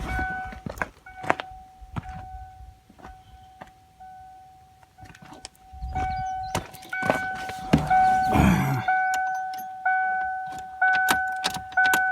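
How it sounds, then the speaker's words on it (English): A steady, faint electric whine from the fuel pump of a 1994 Ford Ranger hums under scattered clicks, knocks and handling noises, with a brief louder rustle partway through. "I think I hear the fuel pump running."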